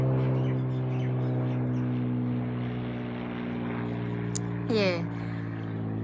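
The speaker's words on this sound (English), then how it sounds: "excuse me, it's a plane." Propeller airplane flying overhead outdoors among fruit trees, a steady loud droning engine hum throughout, with someone talking briefly and a bird chirping near the end.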